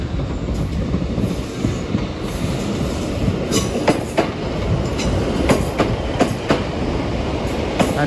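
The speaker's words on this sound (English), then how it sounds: "There we got our service to Exeter coming in." Passenger train pulling into Exeter St Davids station on a Saturday morning, loud and close, with a rolling rumble, clicking wheels over rail joints and bright squeals from the wheels as it slows, no voices.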